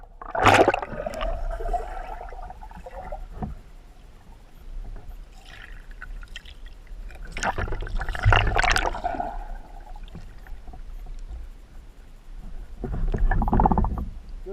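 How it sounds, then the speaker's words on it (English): Water splashing as a person treads water with one hand in a leech pond, three bursts of churning, sloshing sound up close with quieter gaps between them. "It's tough to tread water with one hand."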